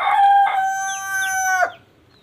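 A rooster crows loudly and close by in one long sustained call lasting over a second, with a brief cluck just before it, at a backyard chicken coop in a home garden where hens are also kept.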